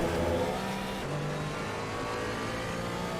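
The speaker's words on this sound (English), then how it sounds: "Faster cars approaching." Race car engines in Assetto Corsa Competizione at Imola, a loud sustained multi-class roar with shifting engine tones as faster cars close in, continuous and near, with no talk.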